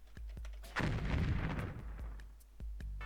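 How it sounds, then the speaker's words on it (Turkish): A small, thin missile blows up in Garry's Mod with a loud, sharp blast that rumbles on for about two seconds. Several crisp gunshot-like pops come before and after it. "Küçük bir yani ince bir füze olduğundan belliydi zaten küçük bir patlama yapacak."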